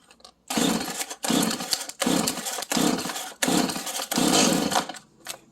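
A Stihl MS170 chainsaw is pulled over on full choke. Five loud bursts of a sputtering engine firing come in an even rhythm, each about half a second long, separated by short gaps, close up.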